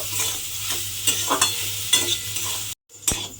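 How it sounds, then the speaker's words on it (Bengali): Paneer and potato filling stirred in a pan, a spatula scraping in repeated strokes over a steady low sizzle, with a brief pause near the end before one more scrape. "এইবারে সমস্ত কিছু খুব ভালোভাবে মিশিয়ে নেব। মিশিয়ে একটা পুর বানিয়ে নেব।"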